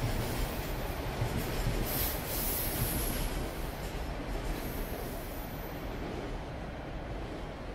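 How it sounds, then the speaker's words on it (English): A train rolls past in Toronto, heard close and loud as a steady rumble with faint wheel squeal and rattling over several seconds, with no voices. "There's another train."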